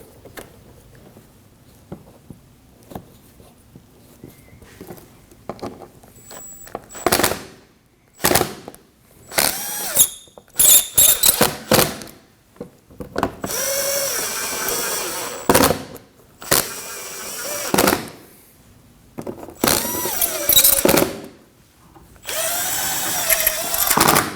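A power driver sets screws into the front bumper of a 2015-2024 Ford Edge, with repeated loud whirring bursts of varying length separated by pauses and light handling clatter.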